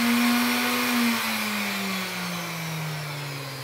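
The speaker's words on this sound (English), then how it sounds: "I'm going to grab a palm sander, pull this off, pull your dust thing off, turn it on over here to get all the dust out of it" A palm sander running alone to blow out its dust before wet sanding for a mirror finish, giving a steady, loud motor whine that drifts slowly lower in pitch, with no talking.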